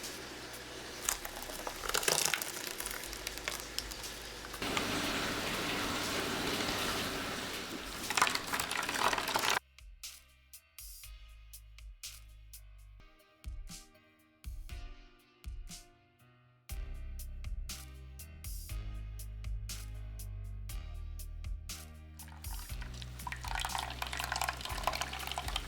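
Freshly blended coconut squeezed by hand through a strainer bag to press out the milk: a long stretch of wet, crinkly squishing and rustling, then intermittent squelches and liquid drips that stop and start in close, uneven bursts.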